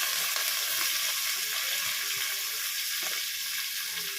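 Onions and curry leaves frying in hot oil for mutton chukka, a loud, even hiss of sizzling that runs without a break, close up.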